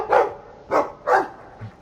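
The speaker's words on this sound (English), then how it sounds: "I like the doggy." A dog in the video game Dragon Age II gives three loud, close barks spaced about half a second apart, followed by a softer low grunt.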